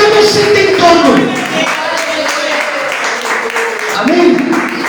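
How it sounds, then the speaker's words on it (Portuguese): A congregation at a live church worship service claps in a dense, continuous burst, up close and loud, with a preacher's voice and some music mixed in over the applause. "dá uma salva de palmas"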